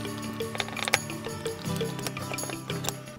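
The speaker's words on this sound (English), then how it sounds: "my next job, I think, is to remove this filter wheel here" Filter wheel being unscrewed from an astronomy camera, a close series of small dry clicks and ratcheting mechanical ticks with light scraping of threads, quiet and irregular, no speech.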